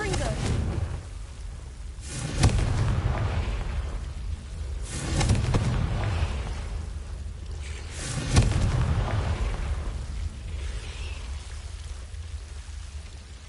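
Confringo fire spell blasts in the Hogwarts Legacy video game erupt in three bursts spaced a few seconds apart, each a sharp crackling boom fading into a hiss over a constant ambient rumble.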